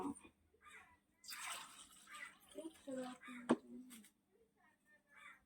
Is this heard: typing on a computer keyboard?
no